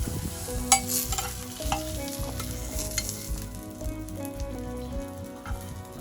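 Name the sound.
catch of the day fish searing in a pan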